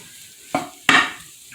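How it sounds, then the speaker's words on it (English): Two quick clattering stirs of a pan where potatoes and bacon fry for a breakfast casserole, each followed by a soft sizzle; close and brief, with no talking. "And the potatoes are browning off nicely. The bacon's just about where we need it."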